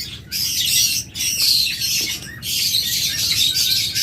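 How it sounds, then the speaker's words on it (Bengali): Green opaline pet birds squawk in loud, harsh bursts, one after another with short gaps between, close by and with no one talking over them. "আমাদের কাছে রয়েছে একদম টপ কোয়ালিটির গ্রিন অপালাইন পাখি"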